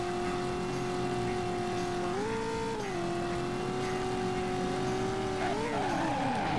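Car chase in the PlayStation game Driver: a steady, droning engine hum with pitch shifts as the car revs and brakes, ending in a tire skid while cornering.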